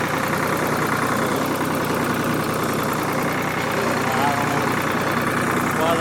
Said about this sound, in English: Hydraulics are working again.